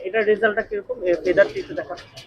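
Pigeons in a loft cooing in soft repeated throaty phrases, close by, mixed with people talking over them.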